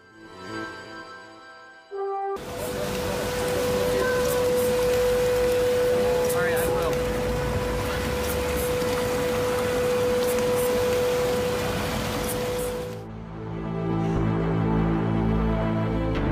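Heavy rain pours onto flooded streets in a dense, loud, continuous hiss with a faint steady tone running through it, framed by short stretches of other sound at the start and end.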